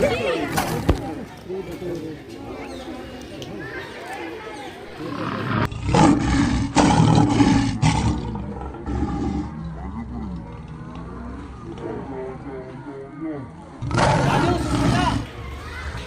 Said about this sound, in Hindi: शेर शेर होता है। इसकी दहाड़ सुनो आप एक बार।